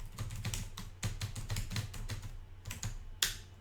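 Quick bursts of keystrokes clatter on a computer keyboard, close and fairly quiet, in short runs separated by brief pauses and ending with one sharper tap.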